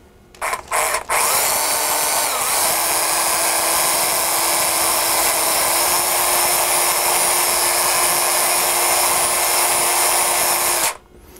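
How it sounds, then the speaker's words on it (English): A handheld electric drill spinning a whisk in ice cream mix starts with a few short bursts, then whirs continuously at high pitch for several seconds before cutting off. "I put a whisk in my electric drill."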